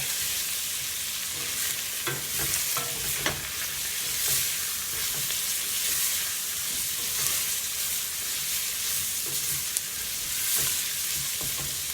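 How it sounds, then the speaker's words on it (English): Vegetables sautéing in a pan with a spoonful of cayenne pepper for a Mexican vegetarian soup, giving a steady, close sizzle throughout with occasional spoon stirs and scrapes, no talking. "I'm just going to add that to my veggie saute just to release the flavor a little bit more"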